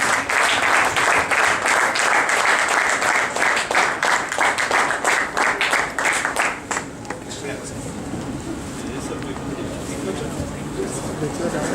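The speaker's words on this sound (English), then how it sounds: "Please give him a big clap, please." A crowd at a Rotary Club award ceremony applauds loudly with dense, sustained clapping that fades into murmuring hall noise after several seconds.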